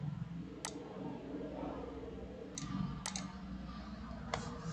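Computer keyboard shortcuts for copy and paste give a few sharp, sparse clicks, about four separate taps spread over a few seconds against a quiet room hum, with no talking.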